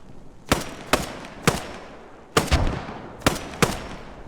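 Gunfire in a World War II strategy video game, six sharp single shots spaced irregularly, loud and close, each followed by a short decaying tail.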